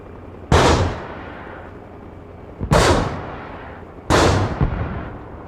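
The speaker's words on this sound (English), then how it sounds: "Let's watch these rockets fly." Three firework rockets launch one after another, each a sharp loud whoosh and burst that tails off over about a second, spaced a couple of seconds apart outdoors.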